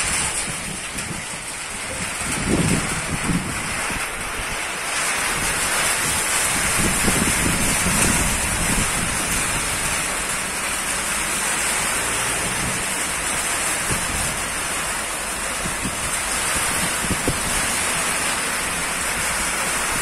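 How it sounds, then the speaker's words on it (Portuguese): Steady rain falls outdoors as a dense, even hiss that holds for the whole stretch, with a few low gusty rumbles early on and no voices. "Aí, a chuva prometeu e chegou."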